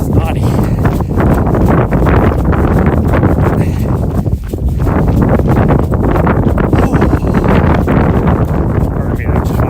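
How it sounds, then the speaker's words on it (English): Strong gusting wind buffets the microphone of a runner on a mountain trail, producing a loud, constant rumbling roar that fills the whole stretch. "now that we got this wind"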